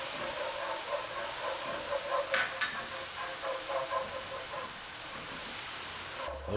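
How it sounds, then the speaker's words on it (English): Honey garlic sauce bubbles and sizzles in a nonstick pan while being whisked, a steady frying hiss with soft scraping and stirring throughout, no talking. "Keep whisking for about roughly 5 minutes until it gets all thick and glazy."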